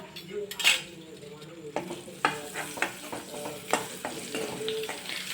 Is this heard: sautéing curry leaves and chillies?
yes